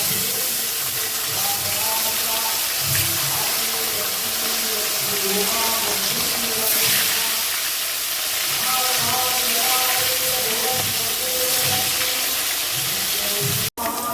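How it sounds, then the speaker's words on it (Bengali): Rohu fish pieces rubbed with salt and turmeric fry in hot oil in a wok, giving a steady, close hiss and sizzle that continues evenly throughout, with a faint murmur of voice beneath it. "ভালো করে মাছগুলো আমি ভেজে নেব।"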